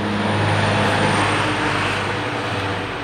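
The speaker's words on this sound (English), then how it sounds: "Sorry, that was a train." A passing train rumbles as a steady, loud broadband roar with a low droning hum underneath, holding level and fading only slightly.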